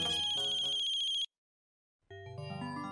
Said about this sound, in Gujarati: અરે એ ધ્યાનબેરી, ફોન વાગે જટ આપ.